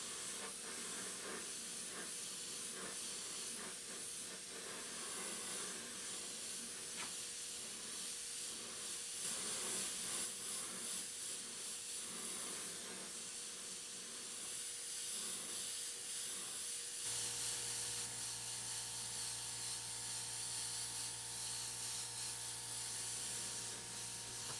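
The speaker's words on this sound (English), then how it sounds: "Again, using my Vega 2000 airbrush." A Vega 2000 airbrush sprays paint onto a panel for woodgrain work, a steady continuous hiss running throughout, close and even, with a lower mechanical hum joining in the final stretch.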